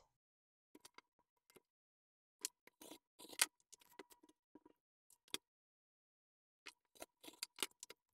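Scissors snipping through necktie fabric to cut long strips, heard as scattered short crisp snips and small clusters of cuts close by, with quiet pauses between bursts and no talking.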